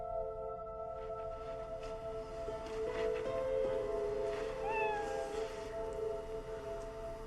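A cat meows in a child's bedroom, a few thin, drawn-out cries heard faintly over a steady tonal background hum, with no speech in between.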